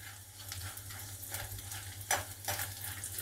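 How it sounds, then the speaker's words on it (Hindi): Makhana or other ingredients for dhaniya panjiri prasad fry in hot oil in a pan over low gas, giving a soft continuous sizzle with occasional stirring scrapes, close and quiet. "बस हमें ये ध्यान रखना है कि वो अंदर तक तल जाए"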